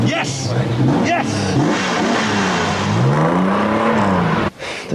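A car engine cranks, catches and revs up and down in loud wavering surges, with voices speaking over it.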